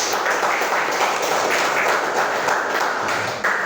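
Fifth-grade students clapping in an elementary school classroom, a continuous, even patter of many small hands that stays fairly loud and steady before dipping briefly near the end.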